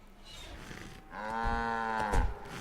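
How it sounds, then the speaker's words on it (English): A cow moo sound effect from the video game Metal Gear Solid 4: one long, loud, droning bovine moo that swells and holds for over a second, after a quieter stretch of faint background noise. "I can't get over the moo sound."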